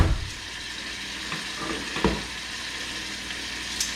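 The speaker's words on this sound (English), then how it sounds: "You can hear that sizzling in there." Pieces of teal duck fry in a hot pan, giving a steady, close sizzle with a few soft clinks and stirring touches along the way.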